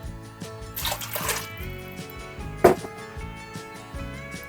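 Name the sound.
pouring water into pot of black-eyed peas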